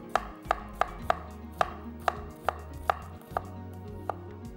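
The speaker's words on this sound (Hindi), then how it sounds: "यहाँ पर प्याज को हमने स्लाइस कर लेना है" A knife slices through a large onion on a cutting board, each cut ending in a crisp knock on the board, about a dozen evenly spaced strokes, close and clear with no talking.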